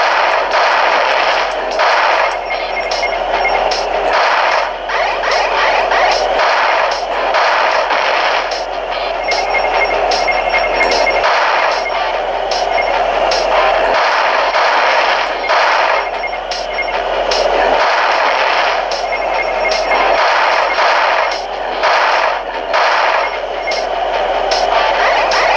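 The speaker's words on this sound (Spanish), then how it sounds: "No me digas que el disparo está haciendo como el ruido de un cerdo." Rapid gunfire in the Nintendo Switch game Bridge Strike, with the Piggy ship's shots giving off squealing, pig-like bursts. The firing is dense, continuous and loud, running the whole stretch amid steady game sound effects.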